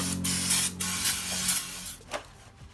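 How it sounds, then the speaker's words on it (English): Several short bursts of aerosol brake fluid spray hiss up close during a Toyota/Lexus automatic transmission filter change, separated by brief pauses, with a faint steady hum underneath. "Spray with some brake fluid."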